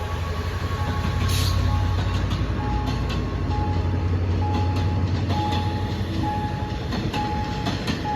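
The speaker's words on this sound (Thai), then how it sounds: "ก็เป็นริ้วขบวนรถด่วนพิเศษที่ 23 นะฮะ กรุงเทพอุบลราชธานีนั่นเอง" Thai diesel locomotive 5220 hauling special express 23 from Bangkok to Ubon Ratchathani past the Si Ayutthaya road crossing, a loud, close, sustained rumble of engine and rolling wagons with repeating wheel clicks.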